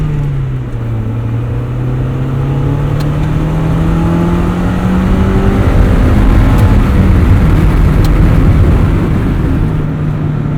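A stock 1996 Mazda MX-5 Miata on stock suspension, engine revving hard toward 7,000 RPM in second gear, a loud rising drone that climbs, drops and climbs again steadily under road and wind roar, no talking.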